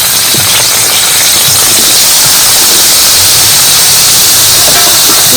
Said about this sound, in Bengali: আর যে তেলে আলুটা ভেজে নিয়েছিলাম সেই তেলে কিন্তু কাটা বেগুনগুলো দিয়ে দেবো।